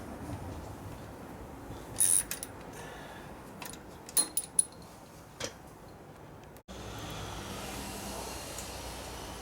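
The primary cover comes off the engine of a 2001 Indian Scout motorcycle during a rebuild. A few sharp metallic clicks and clinks stand out over a quiet workshop background.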